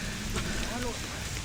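Steady rain falls over a forest trail during a jungle trek, a dense even patter filling the whole moment, with people talking nearby.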